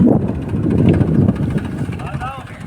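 A tractor spun around while harvesting mustard, its loud, low engine rumble churning steadily with wind buffeting the microphone, as people talk over it.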